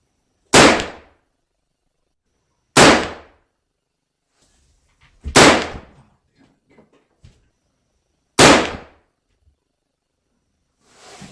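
A Ruger/Marlin 1894 rifle firing .357 Magnum rounds with 158 grain XTP bullets at a shooting range, four loud sharp close shots spaced a few seconds apart, with faint handling noises in between and another shot at the end.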